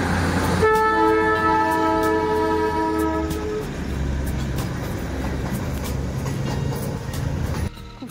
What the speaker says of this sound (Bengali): হোমস্টের সামনে দিয়ে দেখুন টয় ট্রেন যাচ্ছে। এই যে দেখুন টয় ট্রেন।